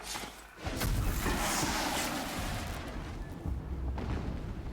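Explosions from the video game Horizon Zero Dawn burst in after a short lull, a loud booming rumble that lingers and rolls on with smaller thuds and no talk over it.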